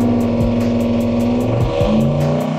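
A Ford F150 daily truck with a turbocharged engine on nitrous roars loudly and continuously through a dyno pull, with a dense, steady, close engine drone and shifting tones throughout.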